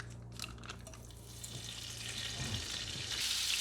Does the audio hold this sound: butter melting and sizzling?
yes